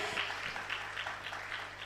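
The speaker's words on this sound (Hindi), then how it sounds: "जोरदार तालियां हो जाएं" An audience applauds steadily to welcome guests onto the stage at an engineers' convention inaugural session in Bhopal, a dense wash of clapping that carries on without a break.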